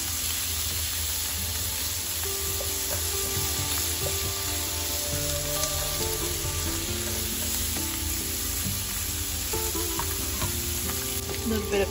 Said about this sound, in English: I'm gonna just let this simmer and low for a little bit.